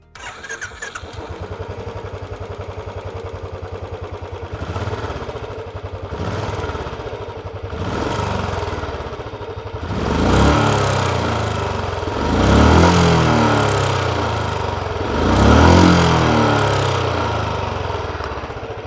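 An older Royal Enfield Bullet 350 single-cylinder motorcycle is started and idles with a steady thumping exhaust, then the throttle is blipped three times in loud revving bursts that fall back to idle.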